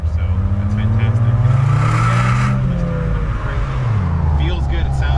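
A Ford Fiesta ST fitted with an aftermarket exhaust drives along, its engine note rising and falling under continuous talk from people inside the car.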